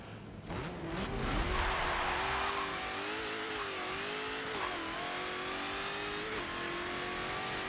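A video game race car engine in Forza 7 revs and accelerates, its pitch climbing and dropping with several manual-clutch gear shifts, loud and continuous with no talking.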